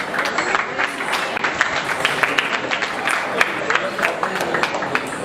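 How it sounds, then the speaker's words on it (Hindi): An audience at a national cultural camp and festival applauds steadily, a continuous wash of many hands clapping at moderate distance that holds evenly throughout. "तालियां फिर से बंद हो गई प्लीज"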